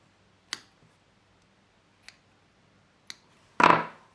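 Scissors snip crochet yarn ends and loops while making an amigurumi owl, three sharp isolated clicks followed by one longer, louder cut, close and otherwise quiet.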